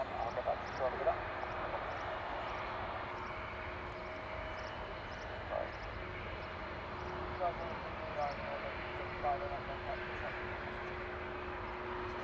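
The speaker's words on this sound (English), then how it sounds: "Ryanair's on its way to Budapest" A Ryanair jet departing Manchester Airport for Budapest produces a steady, distant broadband engine roar that holds evenly throughout, with faint brief sounds occasionally rising above it.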